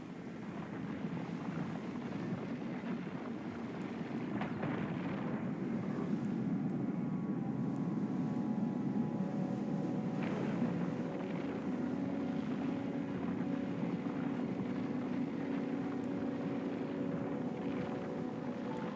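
A steady spaceship afterburner roar from EVE Online, a broad continuous rumble holding at an even level throughout, with faint tonal hums rising in the background.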